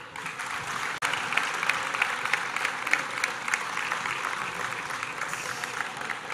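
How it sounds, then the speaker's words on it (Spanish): Sustained applause from a festival presentation crowd, steady clapping throughout with one sharp knock early on. "Un aplauso."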